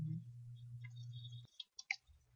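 A computer mouse clicks a few times while a user account is set up on a Windows domain, with sharp, close clicks in quick succession after a low steady hum.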